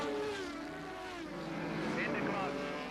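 Racing motorcycles at Knockhill circuit in 1988 roar past at high speed, a dense, continuous engine whine with shifting pitch, mixed under steady commentary.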